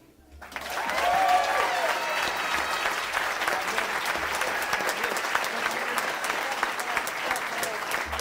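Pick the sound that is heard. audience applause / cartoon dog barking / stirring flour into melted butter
audience applause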